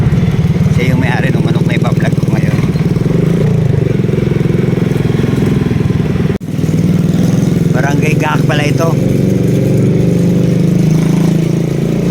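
A motorcycle engine runs steadily up close with a constant low chugging idle, and people talk briefly over it.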